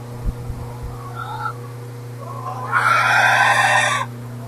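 Hen house holding about 700 laying hens, with a soft cluck or two early on, then a louder burst of clucking and squawking from the flock for about a second, over a steady fan hum.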